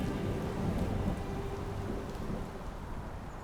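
Thunderstorm in Wyoming with steady heavy rain and a low rolling rumble of thunder, broadband and continuous, fairly loud and close, easing slightly toward the end with no voices.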